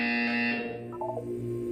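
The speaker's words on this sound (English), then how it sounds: "When you hear the buzzer, look down at the floor." A loud, steady electronic buzzer tone from the video game Portal 2 sounds on its own, holding for about half a second before cutting off into quiet background hum.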